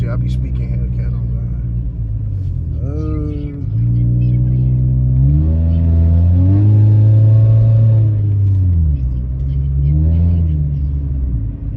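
A Honda Civic (EM2) engine revs up and down in several rising and falling pulls, heard close from inside the car, with speech over parts of it.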